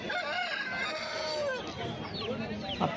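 An Aseel rooster crows loudly amid the noisy Erragadda Sunday market, with other fowl clucking and people talking in the background.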